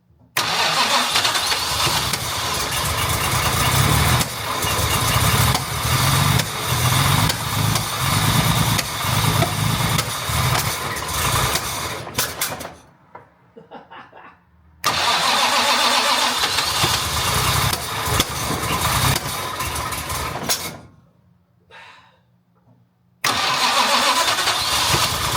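Jaguar MKII engine starting and revving roughly with a faulty starter carb, loud and close, with sustained runs broken by two abrupt cut-outs to near silence before it catches again.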